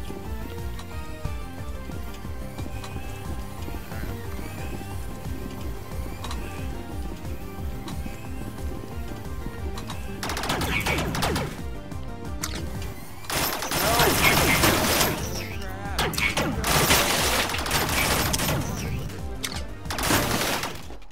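Video game gunfire crackles in rapid bursts, with a steady ticking pattern early and then loud, dense volleys of automatic shots in the second half, close and harsh.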